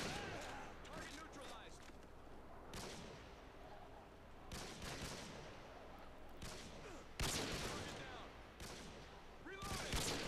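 Gunfire from the video game Modern Warfare 2 during a no-scope Search and Destroy match, with repeated sharp gunshot bursts spaced across the clip amid background game noise and occasional talk.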